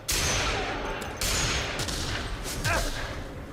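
Sniper rifle shots ring out in The Outer Worlds as a few sharp, loud cracks with echoing tails, set against ongoing combat noise and faint voices.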